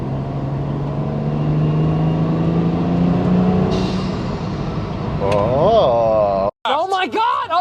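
A car with a BMW N55 engine accelerates on a quick part-throttle hit, its drone building steadily and climbing in pitch before cutting off abruptly near the end, followed by a brief scrap of sound.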